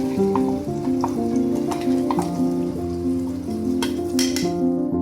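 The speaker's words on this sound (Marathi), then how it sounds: "आता वाटलेला मसाला यामध्ये तेलामध्ये भाजून घेऊया" Ground masala paste sizzling and crackling steadily in hot oil for chicken masala, with occasional stirring scrapes, under background music.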